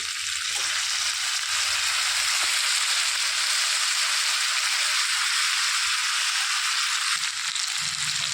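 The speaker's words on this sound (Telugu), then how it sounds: "ఇప్పుడు తరిగి పెట్టుకున్న వంకాయ ముక్కలు నీళ్ళల్లోంచి తీసి ఇందులో వేసుకోవాలి" Cut eggplant pieces, lifted wet from soaking water, hit hot oil in a pan and set off a loud, steady sizzle of frying that runs unbroken throughout, with occasional low clatter of stirring.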